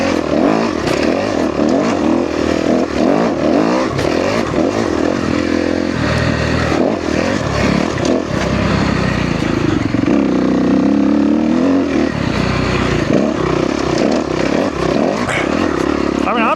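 A 2013 Kawasaki KX250F dirt bike engine revs and drones loudly and steadily on a test ride, its pitch rising and falling throughout, with someone talking over it.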